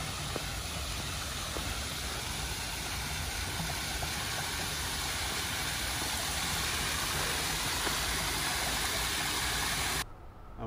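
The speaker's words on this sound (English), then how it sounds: "I wanted to show you guys this small waterfall right here that I spotted on my way." A small waterfall in Melbourne gives a steady, dense rushing hiss that is fairly near and continuous for about ten seconds before it cuts out abruptly.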